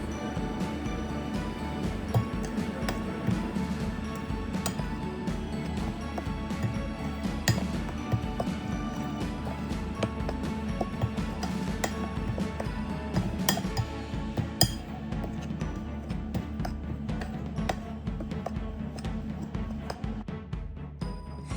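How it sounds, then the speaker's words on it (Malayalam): Oats batter is mixed with rice flour and salt in a bowl, and a spoon clinks against the bowl in quick, steady, repetitive taps throughout, close and moderately quiet. "ഇനി നമുക്ക് ആവശ്യത്തിന് ഉപ്പും കൂടി ഇട്ടിട്ട് നമുക്ക് നല്ലോണം മിക്സ് ചെയ്തെടുക്കാം."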